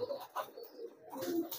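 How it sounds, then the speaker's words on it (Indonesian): A homing pigeon just back at its loft coos softly and repeatedly, with a low, throaty rolling rhythm, close and fairly quiet against a calm background. "ini merpati saya baru pulang tuh"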